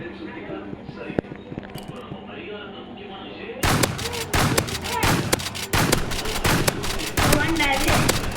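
Rapid shotgun blasts in a Roblox Rivals 1v1v1 match, loud repeated cracks in quick bursts after a quieter opening, with people talking over the gameplay.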